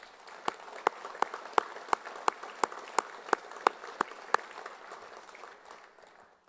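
A small crowd claps for a Hall of Honor inductee at an induction ceremony, with loud, evenly spaced individual claps standing out over softer scattered clapping that fades away after about six seconds.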